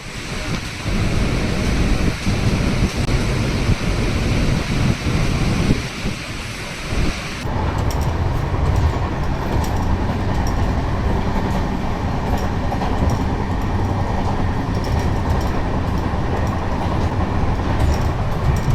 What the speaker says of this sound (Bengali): ট্রেন কিন্তু মোটামুটি রাতটা ধরে নিয়েছে, মোটামুটি 104-5 একটানা চলছে।